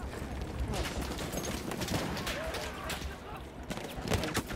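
Gunfire in the shooter Battlefield 1 multiplayer, dense rapid shots and bursts crackling through a busy battle mix with layered noise, fairly loud and continuous.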